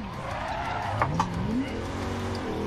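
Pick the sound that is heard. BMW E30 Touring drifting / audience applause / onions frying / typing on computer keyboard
BMW E30 Touring drifting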